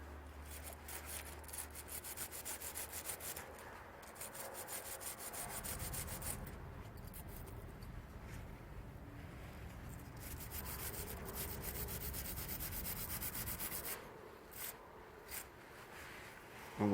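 A brush scrubs steadily across dirty, blackened front brake pads from a BMW 118d E87, a continuous close rasping rub lasting many seconds with slight shifts in pressure and no speech.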